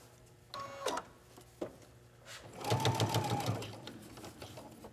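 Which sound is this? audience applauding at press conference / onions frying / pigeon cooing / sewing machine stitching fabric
sewing machine stitching fabric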